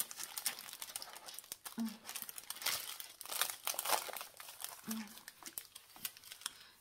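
Packaging of a card-making craft kit is torn open, with irregular crinkling and rustling of plastic and paper in close, quiet bursts while a voice talks alongside.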